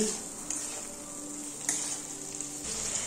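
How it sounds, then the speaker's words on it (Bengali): Steady frying sizzle from a wok as spices and slit green chillies fry for pointed gourd with hilsa, with occasional clinks and scrapes of stirring, close and fairly quiet, no voices. "এবার মশলাগুলোকে কড়াইতে দিয়ে দিচ্ছি, তারপর একটু নেড়ে চেড়ে নিচ্ছি"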